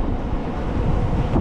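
Loud, steady wind roars and buffets the microphone while riding a HeyBike CityRun electric bike at speed, a continuous rumbling rush with no talking.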